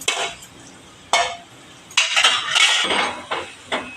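Sweet potato gulab jamun dumplings frying in hot oil, with a steady sizzle broken by several sharp metallic clinks and stirring scrapes of a spoon against the pan, close and fairly loud, with no talking.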